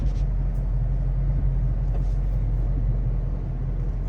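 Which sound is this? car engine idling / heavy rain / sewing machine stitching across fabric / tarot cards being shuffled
car engine idling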